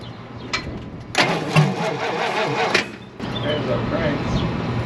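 A 1956 Chrysler Windsor wagon's 354 Hemi V8, long parked, cranks and then catches into a rough running rumble, with voices talking near the car throughout.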